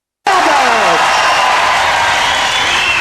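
A wrestling crowd roars after a submission fall in a Kendo Nagasaki versus Pete Roberts bout, a dense, sustained wall of cheering and applause that starts abruptly and holds loud throughout, with a few whistles rising through it.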